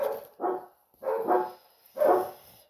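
Dogs bark outdoors in three separate bursts of sharp, mid-pitched barks, some doubled, with short quiet gaps between them, fairly close and loud.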